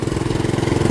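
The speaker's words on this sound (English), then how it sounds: "That's just it idling." A vehicle engine idles steadily during a snowstorm, a loud, even low rumble pulsing at a regular rhythm close by, with no voices over it.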